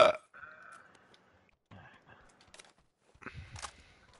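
A person hiccups during a live game stream, heard as a few short throaty bursts separated by gaps, with other faint clicks and noises around them.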